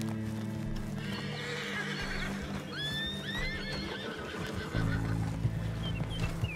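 Horses in Red Dead Redemption 2 neigh and whinny several times over the thud of galloping hooves and a low, steady background rumble.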